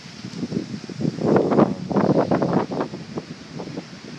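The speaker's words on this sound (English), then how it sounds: "Still real windy out." Strong gusts at Lake Jocassee roar against the microphone, rising and falling in rough surges, loud and close with no voices.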